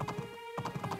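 Galloping horse hooves in the video game Doraemon Story of Seasons: brief rhythmic clip-clop beats with a short pause, over a steady game music backdrop.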